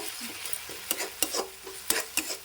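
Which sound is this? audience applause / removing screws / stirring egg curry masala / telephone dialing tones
stirring egg curry masala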